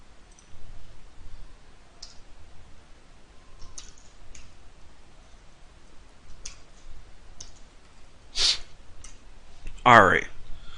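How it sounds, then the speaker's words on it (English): Computer keyboard typing while writing code for an Android app: sparse, quiet key clicks scattered across a quiet background, with a few sharper, louder taps near the end. "let me just finish typing everything"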